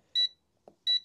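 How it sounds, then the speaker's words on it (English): Two short, high electronic beeps from the buttons of a TopTes gas leak detector sound about a second apart, each clean and clear, with a faint click between them. "it still beeps when you press the buttons"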